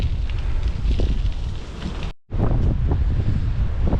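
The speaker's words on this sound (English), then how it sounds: "Pretty windy though." Strong wind buffets the microphone during a long road bike training ride on a cycle path near Glasgow, a loud rushing roar that drops out briefly mid-clip before resuming, no talking.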